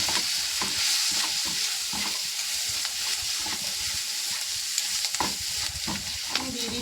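Greens and vegetables are stir-fried with turmeric and salt in a pan: steady sizzling under frequent scraping, knocking strokes of a spatula, close and busy, with no voices.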